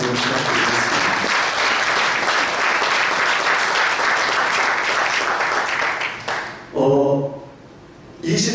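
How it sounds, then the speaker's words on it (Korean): Audience at a church assembly and celebration for general assembly delegates and presbytery officers gives sustained loud applause for about six seconds, then it breaks off into a brief pause and a short final burst. "큰 격려 박수 한번 부탁드리겠습니다"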